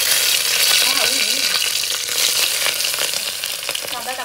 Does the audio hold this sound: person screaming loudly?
no